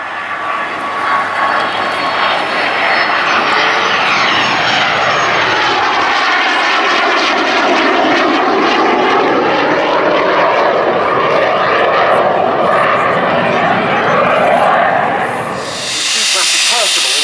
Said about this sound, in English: And back towards us, with the Strike Master smoking,